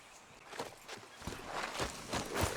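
Horse hooves clip-clop steadily at a riding pace in Red Dead Redemption 2, a rhythmic, fairly close series of hoofbeats with no talk over them.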